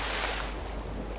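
A character wades into the water in The Witcher 3, a steady broadband wash of water and surf-like noise, fairly loud and continuous with no voices.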